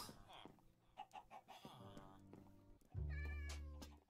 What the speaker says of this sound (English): And I hear chickens